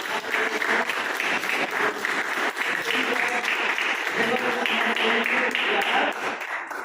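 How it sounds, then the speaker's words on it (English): A classroom of students claps together in a sustained burst of many hands. The sound is close and steady, with some voices mixed into the clapping. "So clap yourself for the good answers you have given."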